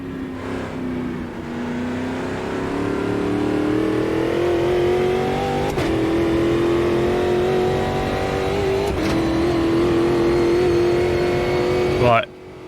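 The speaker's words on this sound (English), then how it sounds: "the actual engine sound is better in iRacing" A Brazilian Stock Car engine in a racing simulator revs and holds a steady high-pitched drone, rising slightly in pitch with brief gear-shift dips, loud and close, ending abruptly.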